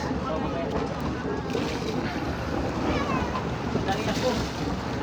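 A boat motor rumbles continuously nearby, mixed with wind buffeting the microphone and water noise.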